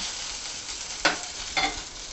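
Stuffed green chillies fry uncovered on a slow flame in a pan, giving a steady soft sizzle with two short scraping stirs partway through.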